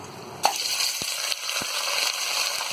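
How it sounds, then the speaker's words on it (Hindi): Mutton pieces hit hot oil with black pepper, cloves, cinnamon and a bay leaf for Hyderabadi biryani. A sharp burst leads into a loud, steady, close sizzle with a few soft stirring knocks. "तो मटन जब थोड़ा सा फ्राई हो जाए"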